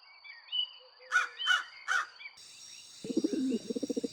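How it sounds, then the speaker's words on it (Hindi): Several birds, crows, caw in a cartoon setting, three loud separate calls followed by a rapid run of harsher pulsing caws, close and clear with no talking. "ये तो मौसम के जानकार पंछी है"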